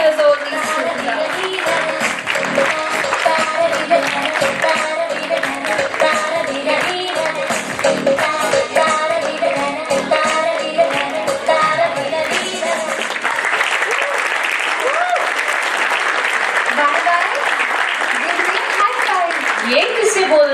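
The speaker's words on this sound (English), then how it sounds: "And we clap for their coordinations, expressions." An audience claps for a performance by children six and seven years old, a steady dense wash of applause running throughout with voices mixed in.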